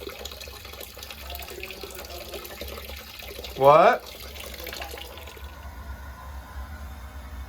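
Water drains steadily from a steam boiler drain on an overfilling boiler with a defective low water cutoff, a soft continuous rush in a basement space, with a brief spoken word partway through.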